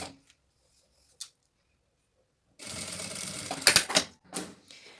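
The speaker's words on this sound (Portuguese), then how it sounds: "vou passar uma costurinha aqui de um pé de máquina" Domestic sewing machine stitching a short seam along a zipper on fabric for a small eyeglass case, a steady close whirring burst of about a second and a half, with a few clicks before and after.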